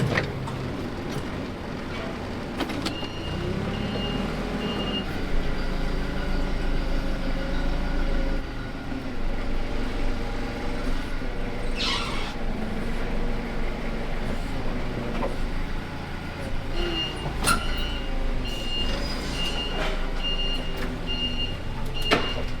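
A forklift moves and backs up inside the tight old pit of a former hog barn, its engine a steady low drone with mechanical clunks and a repeating high reverse beep, close and continuous with no talk.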